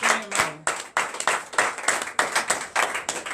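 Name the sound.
congregation clapping in acclamation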